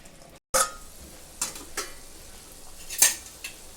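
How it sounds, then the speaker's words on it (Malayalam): Kerala-style fish thoran is stirred in a pan as it cooks down, a handful of distinct spoon-on-pan scrapes and clinks spaced over a faint, quiet simmer. "ഇടയ്ക്ക് മീൻ ഇങ്ങനെ ഒന്ന് ചുറ്റിച്ച് കൊടുക്കണം. അന്നേരം അടിക്ക് പിടിക്കുകയില്ല."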